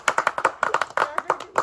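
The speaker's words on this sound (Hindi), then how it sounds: "ताली ताली।" A small group claps in a quick, uneven run of sharp hand claps, close and fairly light, with voices mixed in.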